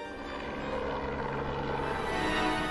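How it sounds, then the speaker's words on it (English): Helicopter flying organ parts over the Scottish Highlands, its rotor and engine drone steady and loud throughout with a low continuous hum and no voices. "that meant flying in parts of the organ via helicopter"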